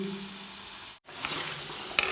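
Potatoes fry in hot oil in a pan with a dense, steady sizzle, broken by a brief hush about halfway through and a short clink of utensils near the end; no one speaks.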